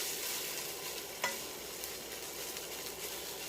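Rice with soy sauce is stirred in a frying pan, a continuous soft sizzle and hiss with scraping from the utensil and one sharp clack early on, quiet and steady with no speech.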